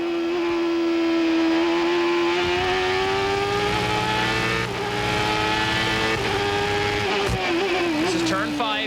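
A 1995 IndyCar engine screams at Laguna Seca, holding a steady high-revving throttle with small rises and dips that shift pitch as the car works through the track. The engine sound stays loud and close throughout, and a commentator talks over it.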